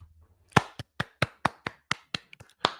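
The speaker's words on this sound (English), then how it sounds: "Let's give this white woman a hand clap" Hands clap about eleven times in a steady, evenly spaced rhythm. The claps are sharp, close and crisp, with silence between them and no voices.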